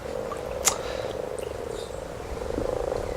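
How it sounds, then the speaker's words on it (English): Frogs croaking in a garden pond at spawning time, a steady chorus of close, repetitive croaks, with a brief sharp knock early on. "have a look at these frogs"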